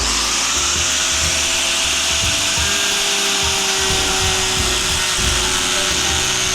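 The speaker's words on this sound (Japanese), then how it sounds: "そして塩ビ管をね、グラインダーサンダーでね切っていきます。" A grinder sander cutting through PVC pipe, a loud continuous high whine with a grinding, rasping layer as the disc bites into the plastic, steady throughout with no voices.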